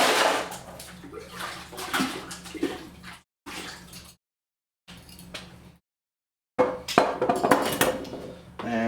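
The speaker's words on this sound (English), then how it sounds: "Let's rinse this out and reuse it." A cocktail glass is rinsed behind a bar, with splashing and running water in bursts separated by short silences, plus faint clinks of glass, close and fairly loud.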